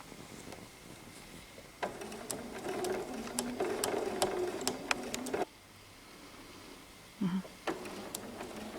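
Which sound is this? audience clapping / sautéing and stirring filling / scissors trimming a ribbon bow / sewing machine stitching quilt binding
sewing machine stitching quilt binding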